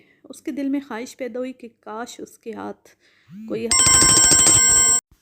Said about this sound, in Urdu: فون سائلنٹ نہیں کیا تھا تو وہ بیپ کی آواز کافی اونچی ہے